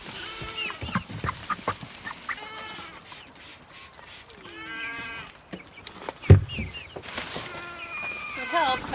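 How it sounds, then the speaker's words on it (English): Chickens cluck and squawk close by in a farmyard, with repeated bursts of clucking and a sharp thump partway through, and a person talks softly at times. "if I didn't get these dumb chickens out"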